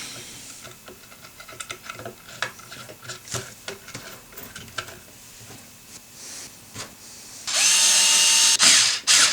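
Power drill driving screws into a Strat tremolo bridge: scattered clicks and taps of handling, then a loud, close whirring burst of the drill near the end, stopping and restarting briefly.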